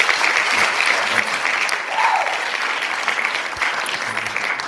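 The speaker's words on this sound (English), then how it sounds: "So let me give y'all a round of applause for that." A round of applause from an audience after a performance, sustained even clapping for several seconds with a faint crowd murmur and one brief whoop mixed in.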